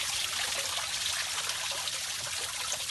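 Spring water runs steadily out of its natural source at a grotto, a close, continuous trickle and splash with no voices over it.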